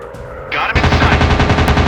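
Rapid machine gun bursts rattle out in a WW2 dogfight video game, Warplanes, firing as a fast continuous stream of sharp shots after a brief lead-in whoosh.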